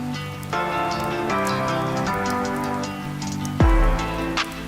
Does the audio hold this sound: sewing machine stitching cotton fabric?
no